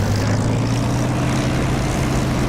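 A propeller aircraft engine drones loud and steady in the DCS flight simulator as the plane taxis off the runway, a constant low hum with a bright tonal band and no talk.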